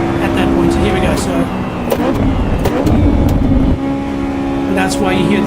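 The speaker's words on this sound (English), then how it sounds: "and that's why you hear the engine go up as I shift" A Honda S2000 engine in the Assetto Corsa EVO racing game revs hard and loud, with brief dips and surges at each gear shift while a person talks over it.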